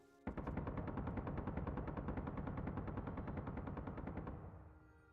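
Rapid automatic gunfire from grouped ship weapons in the space combat game Space Engineers, a dense unbroken burst of loud rounds lasting about four seconds before cutting off and fading.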